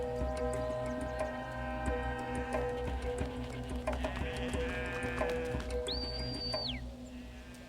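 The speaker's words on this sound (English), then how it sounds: "The goat herder moves his flock on." A herd of goats moving across open desert country in India, with a bleat rising clearly above a steady background of rustling and ambient noise, plus scattered light ticks from hooves or bells.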